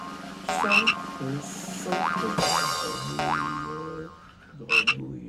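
A toy frog springs and croaks repeatedly: several springy boing-like jumps with croaks, loud and close, spaced over a few seconds with no talking.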